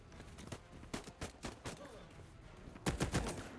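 Bursts of gunfire from a three-round burst weapon in the video game Voidtrain, with several separate volleys of sharp shots and a louder cluster near the end, over low background game noise.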